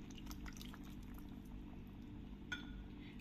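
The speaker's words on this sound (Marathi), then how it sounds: "अर्धी वाटी पाणी यात घालायला पाहिजे" Water is poured into a ripe mango curry in a cooking pot, a faint, steady liquid splash with a light clink of a utensil near the end, and no voices.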